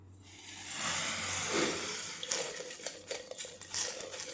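Water trickling and dripping from freshly washed sorghum grain draining in a basket, a soft continuous splashing with small irregular drips, close by.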